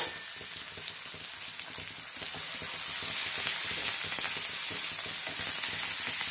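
Spiced egg mixture sizzles steadily in a hot pan for an egg fry, a dense continuous crackle that grows slightly louder partway through, with faint stirring clicks and no talk.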